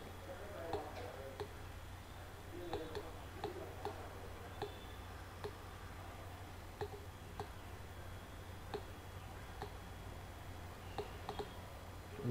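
Soft, evenly spaced computer mouse clicks, roughly one every second, sound close by over a quiet hum while working in a C#.net and SQL Server project, with faint talk in the background.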